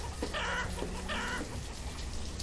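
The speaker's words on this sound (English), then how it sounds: "Having to listen to the chickens all the time, kind of annoying." Chickens clucking in the town-building game Banished, a loud steady farmyard bed of repeated clucks and squawks over constant background noise, with no talk.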